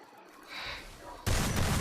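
Gunfire in the mobile battle game Free Fire: a loud burst of shots erupts abruptly after a quieter stretch of low game ambience.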